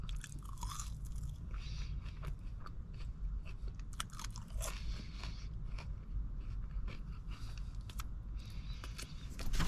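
Crunchy chewing of salty fast food french fries, steady close bites and mastication running throughout with no talk.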